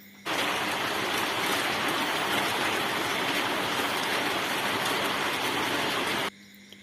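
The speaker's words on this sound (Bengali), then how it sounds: "দেখাচ্ছি, এখনও বৃষ্টি হচ্ছে" Heavy rain falls steadily and loudly for several seconds, a dense, even roar of downpour that begins abruptly and cuts off near the end, with no voices.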